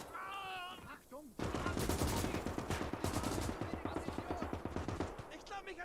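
A Maxim machine gun rattles in a fast, steady stream of close, loud shots during WWII trench combat in Gates of Hell, after a brief spoken line at the start.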